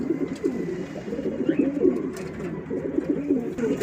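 Several pigeons coo in a loft in soft, repeated rolling calls close by, overlapping continuously with no talking.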